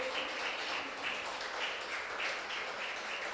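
A church congregation applauds during a sermon, a steady, dense wash of clapping that holds at an even level for the whole stretch without a break.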